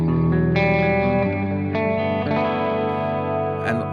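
Electric guitar run through the MF Fever preset on a Fractal effects unit, played with a crunchy distorted tone; sustained chords ring out with several fresh strums across the short passage, loud and alone without any talking.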